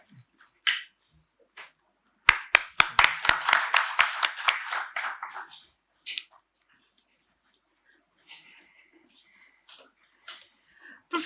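Audience applause welcoming a lecturer to an academic talk, a burst of clapping from a seated crowd that swells and then fades within a few seconds, with a few scattered claps and faint murmurs around it.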